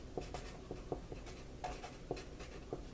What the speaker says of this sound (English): Let me just write the word out here real quick.